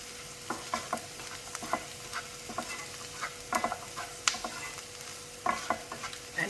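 Cashews stirred in a hot pan with salt and red chili powder, soft spoon scrapes and taps in an irregular rhythm over a faint steady sizzle, close and quiet, no voices.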